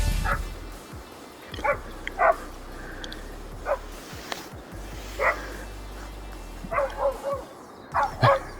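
Hunting dogs bark at a young boar bailed up down a gully in New Zealand's South Island, a series of sharp, moderately distant barks and yips spaced irregularly over a quiet outdoor background.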